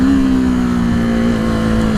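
A KTM Duke 390 motorcycle engine running hard, a loud, steady, droning rumble with a strong tonal hum held at nearly constant pitch, close up, with no talking.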